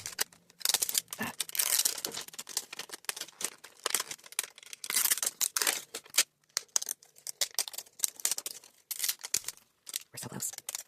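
Scissors snip and plastic toy packaging crinkles and tears in irregular bursts, close by, with short pauses between cuts.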